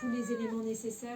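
A cat meowing during an emergency vet visit gives a loud, drawn-out, wavering meow, with a shorter cry near the end, partly overlapped by someone speaking French.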